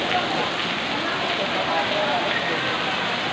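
Heavy rain pours steadily inside the Padre Pio church, a dense, unbroken wash of hiss that stays loud and even from start to finish.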